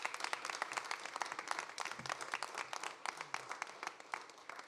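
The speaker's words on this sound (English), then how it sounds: "So a round of applause for them" Applause at an outdoor press conference for the South Fork Wind offshore project, a scattered, moderately thin round of clapping from a small gathering, steady for several seconds at a fairly distant level, with faint voices low underneath.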